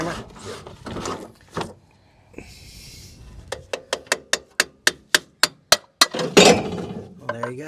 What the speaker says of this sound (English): Let me borrow your hammer.